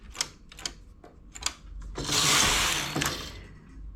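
A knitting machine carriage runs across the needle bed, giving several sharp clattering mechanical strokes followed by a longer rattling, ratcheting sweep, close and alone.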